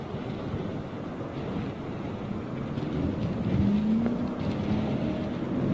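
Low buffeting wind rumbles against the microphone steadily throughout, with a faint engine hum partly hidden beneath the gusts.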